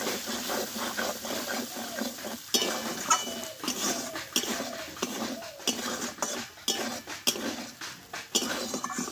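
A spoon stirs spices with salt, turmeric and tomato in a metal pan for a vegetarian Bengali dish, making repeated close scraping and clinking strokes against the pan in an uneven rhythm.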